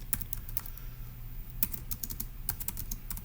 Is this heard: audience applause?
no